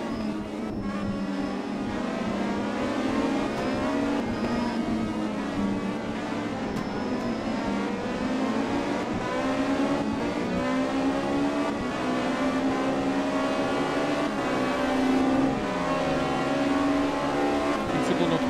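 A Norma M20 prototype race car laps the Nogaro circuit, its engine a loud, continuous drone with rising and falling revs through the gear changes across the whole stretch.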